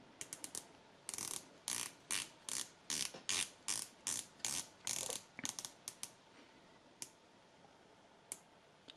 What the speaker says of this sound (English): So 120 clicks, which are quite firm, but it's not impossible to turn.